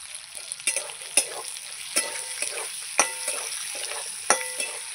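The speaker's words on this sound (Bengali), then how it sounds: "আলু আর পেঁয়াজ আমি ভালো করে ভেজে নেব" Potatoes and onions sizzle in a pan while a spatula scrapes and stirs in irregular knocks and scrapes over a constant soft frying hiss, with no talk.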